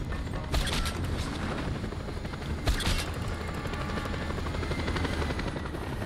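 A helicopter in Just Cause 2 thrums loudly and continuously at close range, its rotor wash steady with a couple of brief sharp clanks over the roar.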